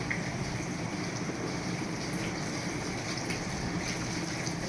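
Water poured steadily over a Radha Govinda deity idol during its bath, a continuous close splashing gush with faint dripping, no voices.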